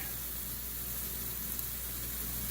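Mushroom and onion fry in a pan, a steady, soft, even hiss that continues without break, fairly quiet and with no voices.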